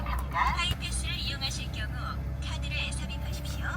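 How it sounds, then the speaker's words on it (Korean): The W12 engine of a third-generation Bentley Flying Spur idles with a deep, steady low hum, running continuously beneath someone talking over it. "정말 웅장한 사운드 12기통의 울림이 저의 심장도 같이 울리는군요"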